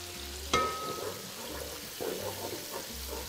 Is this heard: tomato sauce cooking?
yes